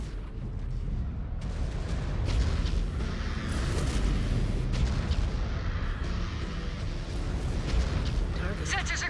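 Missile explosions in MechWarrior 5: Clans boom and rumble continuously amid heavy battle noise, loud and dense throughout, with a voice talking over the din.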